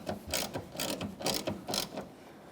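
A ratchet snugs up two mounting bolts for the rear bumper brackets of a 2014-2019 Toyota Corolla, threading into plastic, giving four or five quick bursts of clicking pawl strokes in a steady back-and-forth rhythm, close and moderately quiet.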